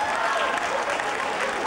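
A seated audience applauds steadily, a dense even wash of many hands clapping throughout.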